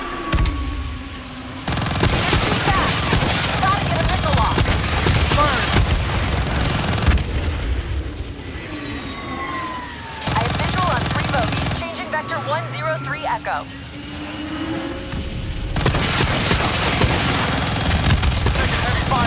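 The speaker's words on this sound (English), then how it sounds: "Taking heavy fire over here." Heavy gunfire and blasts in the video game Call of Duty Black Ops 3, a chaotic battle mix of rattling automatic fire and booms shifting in intensity, with radio-style voices talking over it.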